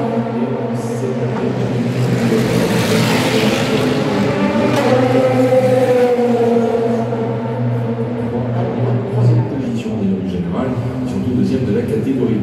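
A race car roars past on the track during free practice at the 24 Hours of Le Mans 2025, its engine note rising and falling, while a commentator talks over it throughout.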